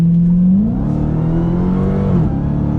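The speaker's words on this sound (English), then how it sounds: "Great sound coming from that V8." A Dodge Challenger Hellcat V8 revs loud and close, its deep engine note climbing then settling into a steady, throaty rumble with a brief pitch swell near the end.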